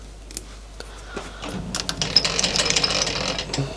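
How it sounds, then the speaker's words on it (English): A lathe parting tool cuts a shoulder into a metal part for a GPS mount. A few sharp mechanical clicks come first, then a rough, grinding cutting noise builds and carries on close by. "Just going to use a parting tool for this bit. I can cut the shoulder in."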